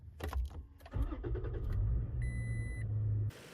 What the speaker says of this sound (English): it's as simple as turning the car on to jump it.